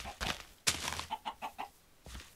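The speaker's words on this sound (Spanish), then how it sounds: "¡Mira, pollos! ¡Ah, no! Son gallinas." Hens cluck nearby in a quick series of short, bright calls, with a few thumps and rustles around them and no speech.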